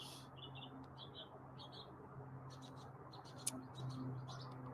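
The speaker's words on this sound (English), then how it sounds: "we got two mourning doves" Two mourning doves calling outdoors, faint soft coos at a distance over a low steady hum, with brief higher chirps from other birds scattered throughout.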